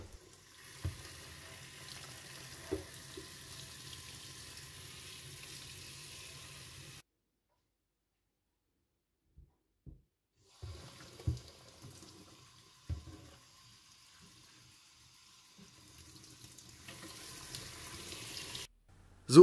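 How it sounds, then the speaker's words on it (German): Running tap water splashes steadily for several seconds, stops, then returns in bursts with clatter of burnt pans being handled and rinsed. "Ich werde jetzt die Pfannen einmal mit klarem Wasser abspülen"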